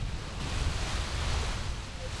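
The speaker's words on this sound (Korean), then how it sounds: "캄캄한 바닷가에는 흰 파도의 포말이 하얗게 부서지고 있었다" Ocean surf breaking on a dark beach at night at a sea turtle nesting site, a steady close wash of waves with wind rumble filling the whole stretch.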